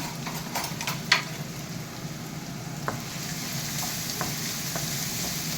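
Chopped onion and garlic sauté in hot oil for a beetroot-leaf stir-fry, a steady close sizzle broken by a few light utensil clicks and scrapes, with no talking.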